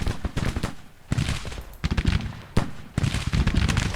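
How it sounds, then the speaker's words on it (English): Artillery and musket volleys crash across a Civil War battlefield in a strategy game, Battle of Long Bridge: a dense run of sharp blasts in several loud bursts separated by brief lulls, with no voices. "And our artillery can open up on the enemy."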